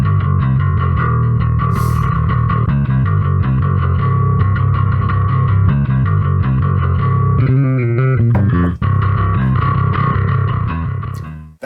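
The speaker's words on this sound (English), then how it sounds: "I got that through the Bass Pod Pro rack mount," A P-bass body with a jazz neck, run through a Bass Pod Pro rack-mount processor, plays a distorted, gritty metal riff with busy rhythmic notes, loud and alone, ending in a sudden cutoff.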